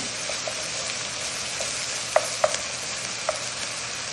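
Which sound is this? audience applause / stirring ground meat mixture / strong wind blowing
stirring ground meat mixture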